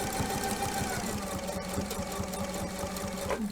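A sewing machine stitches over a thick hump in fabric in a steady, evenly pulsing hum with a regular thump on each stitch, close and continuous throughout.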